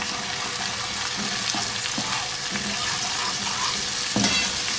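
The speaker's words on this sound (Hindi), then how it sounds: "चम्मच चलाएंगे इसमें।" Finely chopped tomatoes stirred with a spoon in a hot pan for masala aloo, a steady sizzle with occasional scraping knocks of the spoon, close and continuous.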